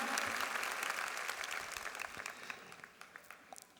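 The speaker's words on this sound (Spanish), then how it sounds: "Démosle un aplauso al Señor y digámosle gracias." Church congregation claps in a dense burst that slowly thins out, leaving scattered individual claps toward the end.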